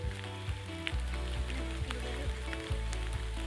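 Steady rain patters across a wooded nature trail near an old bridge, a dense, continuous hiss of drops with a low rumbling undertone throughout, no talking.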